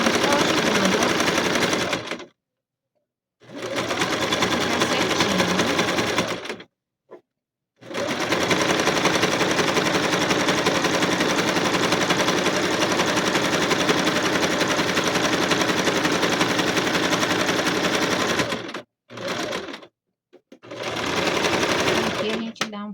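A sewing machine running steady zigzag stitches through thick fabric on a child's backpack, buzzing continuously in several long runs with brief pauses, while someone talks in between.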